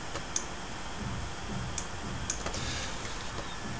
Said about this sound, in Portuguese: digitando